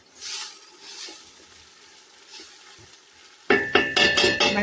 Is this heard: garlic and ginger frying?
yes